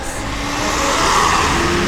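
A car on a road in Montenegro draws closer, a steady broadband engine and tyre rumble that swells slightly as it nears, with no talk over it.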